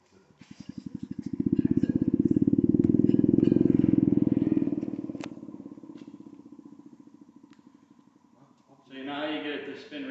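A restored Model 5 siren in Melrose, NY spins up with a loud, buzzing mechanical whir that swells to a peak, then slowly winds down, followed by a short burst of nearby talk.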